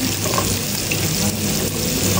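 Onions, ginger and garlic sautéing in butter in a pan, a steady close sizzle and crackle throughout with faint stirring.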